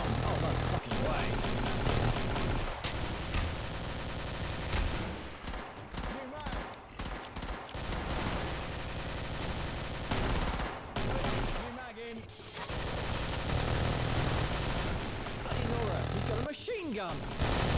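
Dense, rapid machine gun fire in the video game Killing Floor, loud and almost continuous, with brief gaps, amid other game noise and an excited voice talking over it.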